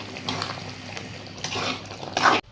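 Water pours into a mixer jar during palak chicken preparation, a close splashing, gurgling stream that swells in a few bursts and ends abruptly, with no voices.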